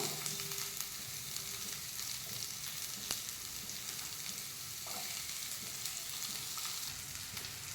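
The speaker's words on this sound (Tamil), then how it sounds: "இதிலே ஆனியன் நல்லா வதக்கிக்கணும்." Onions sautéing in a pan with cloves and a cinnamon stick for a curry-leaf gravy, a steady close sizzle and crackle with occasional stirring scrapes.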